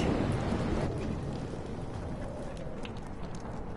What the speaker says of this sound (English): No more storms.